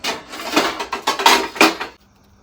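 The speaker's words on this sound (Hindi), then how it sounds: "पहले छील लेते हैं आलू" Boiled potatoes, some cracked open, are peeled by hand, making four close, rhythmic rasping scrapes in quick succession before falling quiet.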